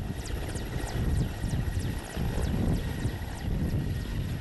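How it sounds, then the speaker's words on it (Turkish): Loud, steady rotor thumping with a whining engine roar, close by and continuous, as a helicopter takes off from a beach. "Mürettebatı alarak kalkış yapan helikopter kısa bir süre havada kaldı."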